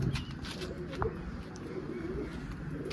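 Soft, low pigeon coos repeat through the clip against a steady background hum, with a few faint higher chirps now and then.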